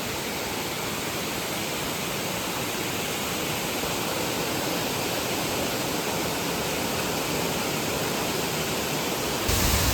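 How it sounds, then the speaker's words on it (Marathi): A waterfall near a temple in Konkan during the monsoon roars nearby, a constant broad rushing hiss that holds steady for the whole stretch, with no voices. "मंदिराजवळचा धबधबा."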